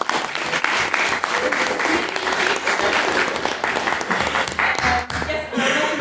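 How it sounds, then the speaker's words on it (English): A debate audience applauds loudly and steadily, a dense wash of clapping that holds for several seconds with only a brief dip near the end. "Can we get another round of applause, please?"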